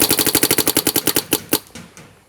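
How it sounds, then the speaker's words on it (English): An HK Army TFX3 paintball marker firing rapidly, a fast even string of sharp pops that slows to a few final shots, then a fading tail, close and alone with no voices. "I really didn't think this TFX3 was going to shoot that fast."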